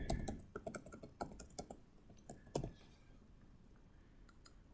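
A password is typed on a computer keyboard. A quick, close burst of clicky keystrokes thins out into a few scattered taps, all fairly quiet.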